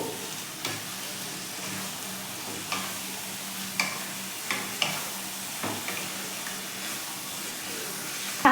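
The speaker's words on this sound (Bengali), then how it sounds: "দু তিন মিনিট বাদে বাদে ঢাকা খুলে খুলে মাংসটা আমি কষবো" Marinated chicken frying and being stirred in a covered pan on low heat for posto chicken, with a steady close sizzle broken by regular clanks and scrapes of a spatula.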